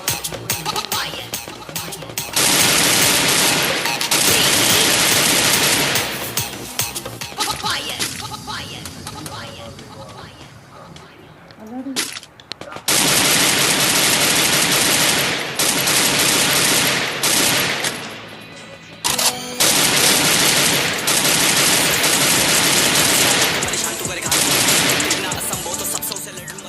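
Rapid automatic gunfire from the Free Fire video game comes in long, dense, loud bursts separated by short pauses, with a voice heard alongside.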